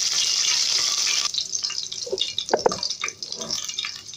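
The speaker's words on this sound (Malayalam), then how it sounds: "ഞാനിതിലേക്ക് കുറച്ച് വേപ്പില ഇട്ട് കൊടുക്കുന്നുണ്ട്. പിന്നെ ആ പച്ചമുളക് മിക്സ് ചെയ്യുന്നുണ്ട്." Curry leaves and green chilies fry in hot oil in a pan for Kerala-style chena fry, a loud, steady close sizzle joined by sharper crackles and spatters as they are stirred.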